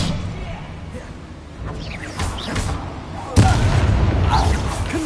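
A fiery Confringo blast spell explodes in Hogwarts Legacy, a sharp booming burst amid ongoing spell-battle whooshes and rumbling effects, loud and close with game voices nearby.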